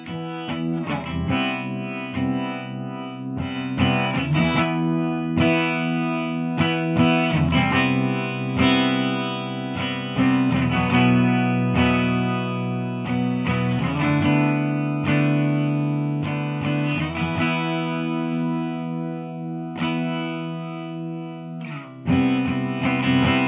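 Guitar tone run through a chorus effect set to high depth on a One Series pedal controlled from the Neuro mobile app, sustained distorted chords and notes ringing with shimmering modulation, played alone with brief gaps between phrases.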